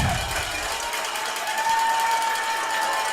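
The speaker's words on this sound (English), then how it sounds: "Coach Carter there trying to get the crowd going." Crowd at a varsity high school football game roaring and cheering as the coach urges them on, a dense, loud, sustained wash of noise with a whistle-like tone running through it.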